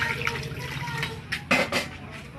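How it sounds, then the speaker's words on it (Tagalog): Water pouring into a cooking pot of Filipino chicken tinola, a close, steady liquid rush with a louder splashing burst near the end. "lagyan po natin ng tubig"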